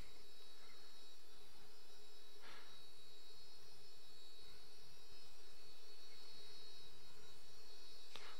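Go-kart engine idling at a low, constant drone with a faint steady whine, quiet and even for the whole stretch, with a couple of brief rattles; no talking.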